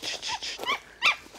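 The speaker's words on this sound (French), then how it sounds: "Bravo le chien, c'est bien mon chien." A hunting dog whimpers and whines in short, high-pitched bursts close by, with a louder yelp near the end; no one speaks.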